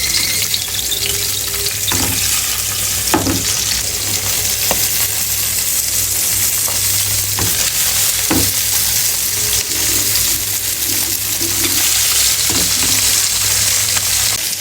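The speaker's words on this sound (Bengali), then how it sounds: "এবার মাছটা ভেজে নেব, হালকা ভাজবো" Fish sizzles steadily as it is lightly fried in a pan, a continuous loud crackle broken by occasional sharp clicks and scrapes of a utensil, with no voices.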